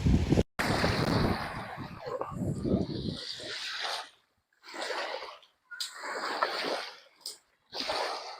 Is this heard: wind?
yes